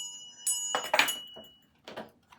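A small, slightly rusted Liberty Bell replica is rung indoors, giving a few bright, ringing strikes close by, each decaying quickly before the next, with quiet gaps between.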